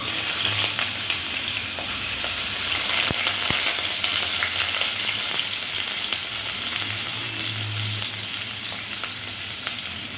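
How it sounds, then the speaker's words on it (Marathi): Soaked chana dal frying in hot oil, a steady close sizzle with occasional stirring scrapes, continuous and even throughout with no talking. "चणा डाळ भिजत घातली होती, ती पण मी तेलात टाकणार आहे।"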